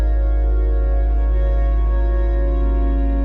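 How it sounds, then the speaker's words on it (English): A low, sustained CS80 synthesizer drone holds one deep note steadily, rich in overtones, loud and unchanging throughout. "So it's just a low riding drone note."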